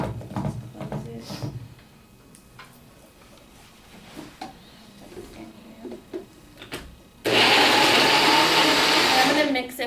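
A kitchen blender whirs loudly and steadily after being switched on, mixing half a banana, preceded by several seconds of quiet kitchen handling sounds and clatter.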